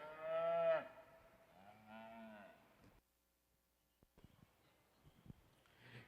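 Beef heifers in a cattle show ring give two mooing calls close by, a loud drawn-out low followed by a shorter one, then quiet with scattered clicks and shuffling.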